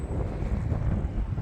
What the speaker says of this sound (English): Wind's too strong.